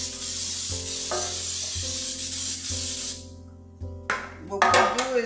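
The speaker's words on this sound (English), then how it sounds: "Spray your bread pan." Cooking spray hisses into a bread pan for a homemade quick bread, a steady sputtering spray over several seconds, then stops and gives way to clatter and handling noises, with a backing music track throughout.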